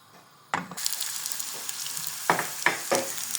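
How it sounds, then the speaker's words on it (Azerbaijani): Chopped onion and carrot hitting hot oil in a frying pan, a sudden sizzle that settles into steady crackling, with a few sharp stirring scrapes and clatters near the end. "İndi isə keçirik soğanı və kökü tavada qovurmağa."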